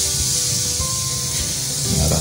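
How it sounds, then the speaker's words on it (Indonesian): A Tasco Mist 2-liter pressure sprayer mists rainwater onto houseplants, giving a close, continuous fine hiss that holds steady throughout. "Ini saya semprot dengan air hujan dan saya hanya perlu seperti ini aja."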